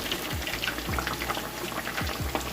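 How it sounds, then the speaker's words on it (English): Pork chops deep frying in hot oil, a dense continuous sizzle and bubbling crackle, close and steady throughout. "this pork's gonna be double fried"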